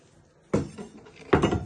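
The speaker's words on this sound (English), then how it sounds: "You're first going to slice it into 3." Knife chopping bacon rashers on a cutting board for a cheese and onion pasty, two distinct close thuds of the blade striking wood with a short gap between them.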